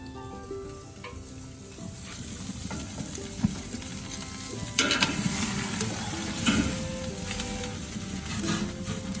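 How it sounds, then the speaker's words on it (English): Tomahawk steak sizzling on a Big Green Egg grill, with a steady, close crackling fry, scattered pops and brighter hissing spurts throughout. "Look at that sizzle."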